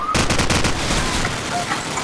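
Rapid automatic gunfire in Call of Duty 4, a dense burst of shots fired close and loud, then trailing off into a brief tail.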